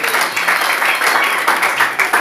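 Group applause from a congregation at a French-language church gathering, a steady wash of many hands clapping with irregular pulses, continuous and moderately loud throughout.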